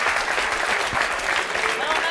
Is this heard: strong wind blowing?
no